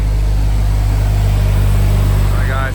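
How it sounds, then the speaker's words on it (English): An 8th-generation Honda Civic Si running on E85 idles steadily nearby, a loud, constant low engine hum with strong low harmonics that dips slightly near the end. "got the engine on"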